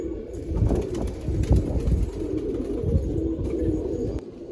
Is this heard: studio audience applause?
no